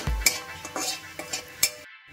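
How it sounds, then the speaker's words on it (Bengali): Dried red chilli, bay leaf and whole cumin seeds frying in oil while a spoon stirs them, with repeated light scraping strokes against the pan over a steady close sizzle. "একটা শুকনো লঙ্কা আর গোটা জিরে দিয়ে ভালো করে একটু নাড়িয়ে নেব"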